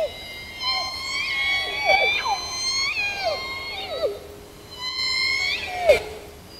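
Recorded calls of J pod killer whales: a series of rising and falling whistles and pulsed squeals that come one after another, clear and fairly loud over a low hiss.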